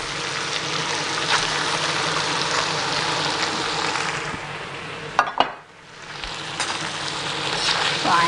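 Kuay Teow noodles and prawns sizzle loudly in a hot wok for Char Kuay Teow, a dense, steady frying hiss broken by a brief clatter and a short dip before the sizzle returns.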